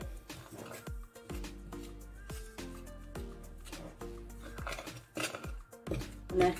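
Butter and powdered sugar mixed by hand in a bowl for butter cookies, with a quiet, rhythmic series of utensil clinks and scrapes against the bowl, about one stroke per second.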